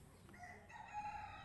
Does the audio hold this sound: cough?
no